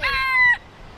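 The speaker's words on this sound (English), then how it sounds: "got Mr. Rooster there." A rooster in Kauai, Hawaii crows once, a brief, loud, close call that cuts off abruptly.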